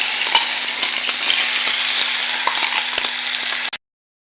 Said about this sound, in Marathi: आपण ते चांगल्या प्रकारे परतून घेऊया